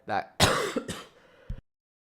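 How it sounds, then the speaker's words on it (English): A few rough coughs and throat-clearing bursts, close and fairly loud, separated by short gaps, with a brief voiced sound near the start. "Sorry, I was coughing again."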